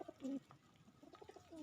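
Pigeons on a pigeon farm coo in short, low, throaty bursts, a few calls close together at the start and end, near and moderately soft amid faint background murmur.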